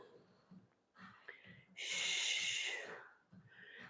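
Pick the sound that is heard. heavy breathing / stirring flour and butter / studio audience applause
heavy breathing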